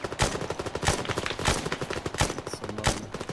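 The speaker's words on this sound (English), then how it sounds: "Looks like some machine guns on the roof of the building there." Rapid machine gun fire from a building rooftop in Arma, heard as a rhythmic string of sharp bursts at moderate distance with no talking.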